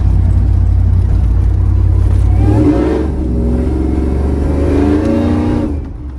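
A ZL1500 car engine with a 10-speed transmission revs up and accelerates on the road, a steady loud drone that shifts into a rising whine partway through, close and with no one speaking.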